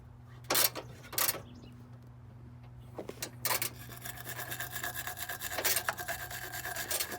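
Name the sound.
cleaning corroded electrical ground on '87 Chevy truck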